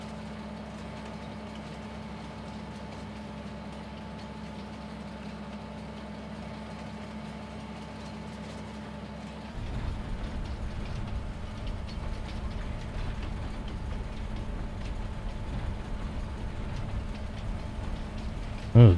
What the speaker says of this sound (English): But we gotta get this train going.